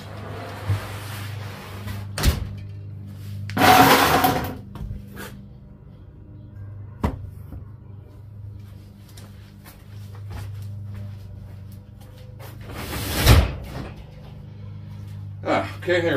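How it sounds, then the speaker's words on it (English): A door slams shut in a home workshop, one sharp bang among a few scattered knocks and thumps, with a neighbor's mower droning steadily outside and someone talking nearby. "let me shut this door."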